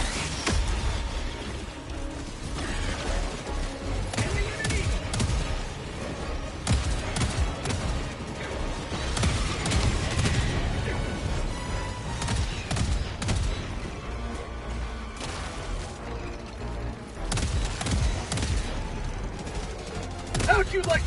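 Gunfire in a video game in which a deployed sentry turret fires: rapid bursts of automatic shots and thuds continue through the whole stretch, with explosions mixed in and voices calling out over the fighting.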